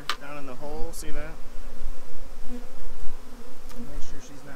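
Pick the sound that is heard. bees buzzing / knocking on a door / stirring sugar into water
bees buzzing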